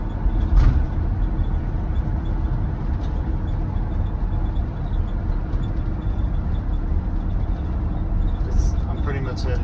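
Mercedes Sprinter 4x4 van coasting downhill in high gear with no throttle, a steady low drivetrain and road drone filling the cabin, with a brief bump early on.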